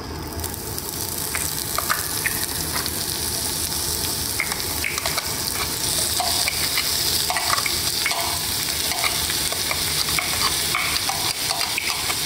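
Potatoes fry in a pan for a Bengali dum aloo curry, a continuous loud sizzle running throughout with frequent stirring and scraping over it.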